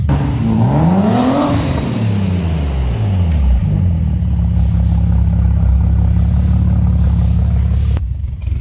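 A BMW G80 M3 fitted with an N54 single-turbo engine revs loudly up and down close by, then settles into a steady drone before cutting off abruptly near the end.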